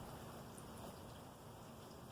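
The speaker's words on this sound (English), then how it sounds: "calm, rainy day in Texas" Gentle, steady rain falls on a calm, windless day in Texas, a soft continuous patter close by with no talking.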